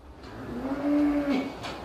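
Cattle on a farm low with a single drawn-out moo at moderate distance, rising and sustained for about a second, with no talk.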